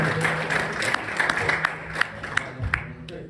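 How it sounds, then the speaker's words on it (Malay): An audience at a school workshop on a student-development project simulation claps in light, scattered applause, with sharp individual claps over a soft room murmur. "Beri tepukan gemuruh"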